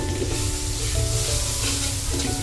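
Chicken curry ingredients sauté in a pan as a little extra oil is added, giving a steady, loud, close sizzle that runs unbroken throughout with no talking.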